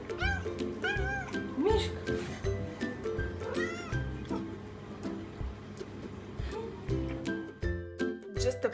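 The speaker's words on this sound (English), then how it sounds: "She walks around the oven and meows a lot" A pet cat meows repeatedly near a kitchen oven while cookies bake, its rising cries coming close and frequent over a layer of background music.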